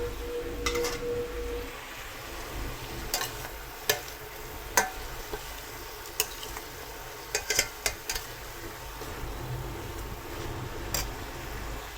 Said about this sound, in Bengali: এবার আমি এটা কষাতে থাকবো